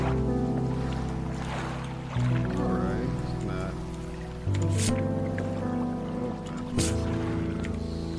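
Fishing boat engine in the video game Dredge, a steady low droning hum chugging along under lapping water and splashes, with a few sharp bright clicks from the game, heard alone at moderate level.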